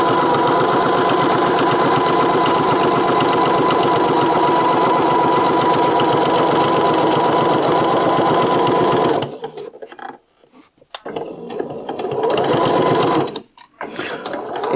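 A sewing machine stitches steadily along a marked line, giving a loud continuous mechanical whir close by for about nine seconds. It then stops and restarts in short bursts.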